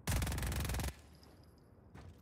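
A rapid burst of automatic gunfire from a small submachine gun in Just Cause 4 rattles for about a second, then cuts off into quiet background hum.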